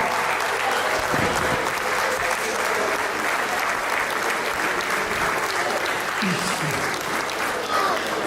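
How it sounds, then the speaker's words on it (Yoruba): A large audience applauds a man at a gathering, a dense, sustained roar of clapping that stays loud and even throughout, with voices faintly mixed into the crowd noise. "A round of applause for him one more time."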